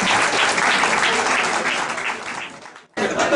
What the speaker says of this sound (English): Another round of applause for the band.